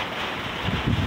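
Strong wind on a rainy day whipping past the microphone and stirring leaves, a steady broad roar with gusts swelling toward the end.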